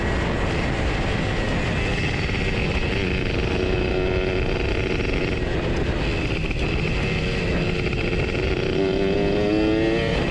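A ported Suzuki Satria two-stroke motorcycle screams at high revs while chasing a Kawasaki Ninja, a loud, continuous, buzzing engine wail with shifting pitch that is steady throughout, mixed with wind rush and no talking.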